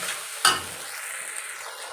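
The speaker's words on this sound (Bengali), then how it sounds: "জিরে, আদা, পেঁয়াজটাকে বেটে রেখেছিলাম, ওই মশলাটাকে দিয়ে ভালো করে নেড়ে চেড়ে নিই" Ground cumin, ginger and onion paste stir-fried in a pan for a rohu fish curry with potato and cauliflower, a sharp scrape at the start followed by a soft continuous sizzle, close and brief.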